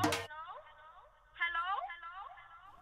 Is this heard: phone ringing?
yes